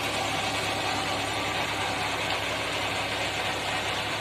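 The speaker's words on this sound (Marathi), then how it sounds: "बघा किती सुंदर पद्धतीनं रोटावेट होतंय सगळं" A tractor pulls a rotavator across a farm field, tilling dry marigold plots. The engine drone is loud and unbroken, with a dense hiss and churning noise from the soil throughout.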